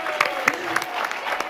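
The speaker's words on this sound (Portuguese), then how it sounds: "Palmas!" Brief burst of clapping from a small group at a church gathering, a few quick uneven claps with a voice talking over them.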